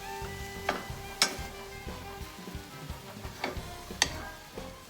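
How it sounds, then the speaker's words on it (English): Chicken for a chipotle cheese-chicken sandwich sizzling quietly in a pan while being stirred, with a soft continuous fry and a few sharp utensil ticks and clinks scattered through, close but low in level. "Stir it up real good."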